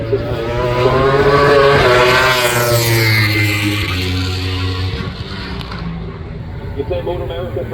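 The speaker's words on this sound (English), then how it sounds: "Number 27 now making his way around Ashton Yates" A superbike racing motorcycle screams past on the track at a race meeting, a loud high-revving engine whose pitch shifts through gear changes and fades as it passes, under a commentator's voice.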